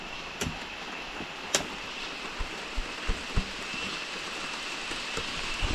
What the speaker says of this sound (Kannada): ಲೈಟಾಗಿ ಮಳೆ ಬರ್ತಾಯಿದೆ.